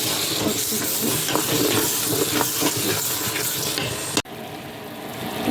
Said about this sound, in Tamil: தக்காளி நல்லா பொரிச்சு வந்துடுச்சு